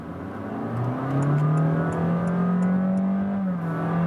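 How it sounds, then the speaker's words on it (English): A Honda Fit Hybrid accelerates hard from 40 to 80 km/h, its engine note a steady rising drone that climbs smoothly and stays loud and continuous with no talking. "And here for first acceleration from 40 kilometers to 80"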